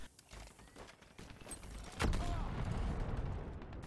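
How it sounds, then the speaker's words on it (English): A grenade blows up in a competitive first-person shooter, one sudden close boom that rolls into a rumbling tail over scattered gunfire and game noise. "Wheelbarrow Orbite gets killed by that nade"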